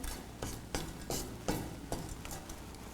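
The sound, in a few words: toasting Mexican cinnamon in a pan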